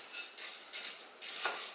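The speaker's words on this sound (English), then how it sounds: "I'm just going to give this with the spices a quick mix before I throw my wet ingredients in there." Dry granola ingredients tossed with nutmeg and salt in a bowl, a soft close rustle and scrape of stirring in a few quick strokes.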